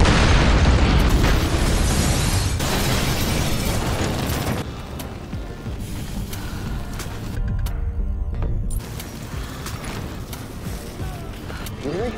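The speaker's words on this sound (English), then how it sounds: "as soon as he got into the car, an explosion occurred" A loud explosion blast in a car opens with a heavy, rumbling boom that dominates the first few seconds, then decays into a long, crackling, debris-filled roar that stays loud to the end.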